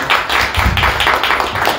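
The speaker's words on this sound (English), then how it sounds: "A round of applause." Audience applause at a Dallas political candidate forum, a dense steady wash of clapping from a crowd, fairly loud and close, running throughout without any talk.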